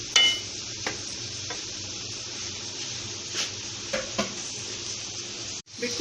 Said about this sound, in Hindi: ऑयल गर्म होने में इसमें डालूंगी प्याज, साथ ही लहसुन। अब ये फ्राई होगा